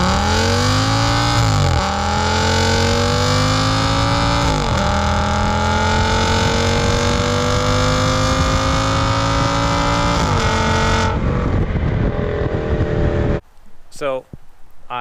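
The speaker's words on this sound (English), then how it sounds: "I deleted all 4 resonators off of the car, and I will stick a sound clip here." An Audi S8 with all four exhaust resonators deleted revs repeatedly through several loud, rising pulls in a raspy, droning tone, then cuts off into a few short, sharp blips.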